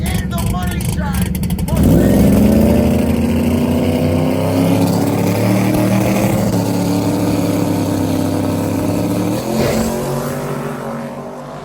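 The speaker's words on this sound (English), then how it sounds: "We got a drag race down on the top end" Drag race cars with slicks blast down the strip at Ubly Dragway, their loud engine roars rising sharply in pitch as they launch, then sustaining a heavy, close howl that fades off near the end.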